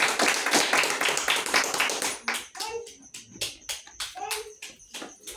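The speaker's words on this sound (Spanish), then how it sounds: "¿Alguien puede dar un aplauso al Señor Jesucristo?" A church congregation claps for the Lord Jesus Christ, starting with a burst of dense, rhythmic clapping that thins into scattered individual claps, while voices, including a child's, speak between them.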